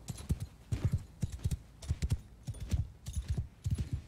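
Cavalry horses gallop in the Bannerlord video game with a Game of Thrones mod, and their hooves clip-clop in a quick, steady rhythm that stays close and clear with no talk over it.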